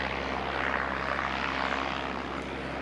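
A Jetstar airliner on departure, its engines a loud, close, continuous roar with a broad rushing tone that holds steady over a few seconds, no talk.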